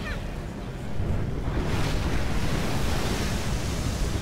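A strong, rushing gust of wind in the video game Tomb Raider swells up after a moment and keeps roaring steadily, broad and full like a sustained blast of air.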